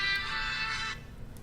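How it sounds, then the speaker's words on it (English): A judge's phone ringtone playing Trump's music, a bright tonal melody sounding for about a second before cutting off abruptly, faint and slightly distant with no talk over it. "the judge phone was playing Trump's music when it rang during the thing."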